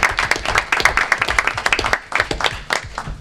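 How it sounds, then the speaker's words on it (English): A small meeting audience at a city planning organization applauds a departing member, with close, distinct claps from a modest group, rhythmic and uneven, briefly dipping midway before continuing. "you deserve a round of applause"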